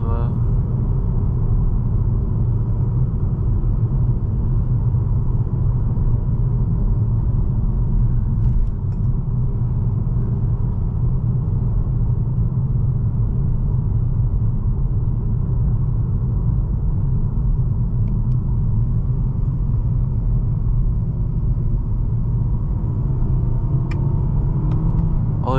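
A Nissan Altima SR driving on a scenic road through Yellowstone National Park, heard from inside as a steady low engine and road rumble that stays even throughout, with no talk over it.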